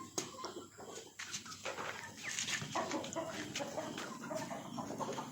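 Chickens cluck and call outdoors in a busy farmyard, their scattered clucks mixed with general rustling ambience that grows slightly louder over the few seconds.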